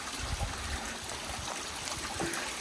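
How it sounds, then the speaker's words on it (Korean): Mountain stream on Seoraksan flowing over rocks, a soft continuous trickle and rush of water, faint and steady with no voices. "물소리 들리시죠?"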